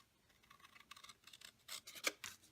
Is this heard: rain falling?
no